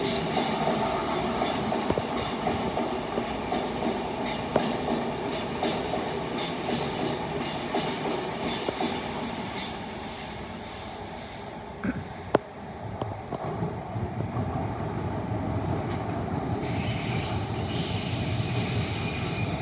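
A Class 390 electric train heading to Birmingham New Street in North London, a continuous loud rushing roar and rumble of passing carriages sustained throughout, with a brief clank partway through.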